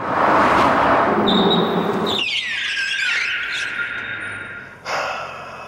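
A Corvette ZR1 squeals its tires under hard braking on a slick indoor floor, a loud rising then sustained high screech over heavy engine roar, cutting off near the end before a brief burst of noise.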